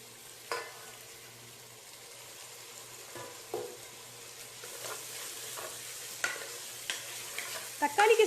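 Tomatoes go into a pan with sautéed ginger and garlic, giving a soft, steady sizzle with occasional scraping stir strokes and a few louder clatters near the end, and no speech.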